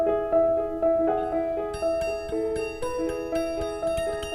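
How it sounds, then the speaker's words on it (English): An out-of-tune door harp rings as a door swings shut, its strings struck in a jangly series of clashing, sustained tones that overlap and slowly fade, close and alone. "you'll see that you still need to tune your door harp, otherwise it sounds like this."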